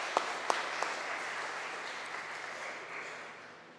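A church congregation applauds the stand-in organist during an online Sunday worship service, a steady wash of clapping from many hands that holds evenly and tapers slightly at the end, with a few sharper claps standing out near the start.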